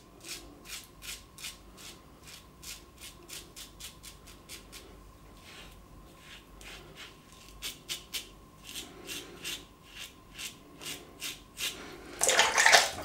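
A razor is shaved and rinsed under running tap water. Rhythmic, soft scraping strokes repeat at close range, then a louder rush of water gushes briefly at the end.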